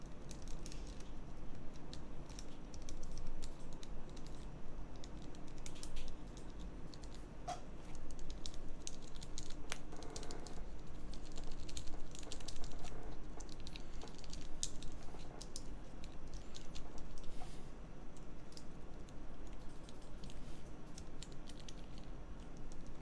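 Steady, fast typing on a mechanical keyboard with lightly lubed switches for a TKL build, producing soft, muted clacks in a continuous patter at a moderate distance with no talking.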